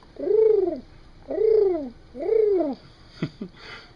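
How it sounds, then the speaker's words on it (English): Pigeons coo nearby in three drawn-out, rising-and-falling calls spaced about a second apart, followed by a couple of short soft clicks. "Little pigeons, they go."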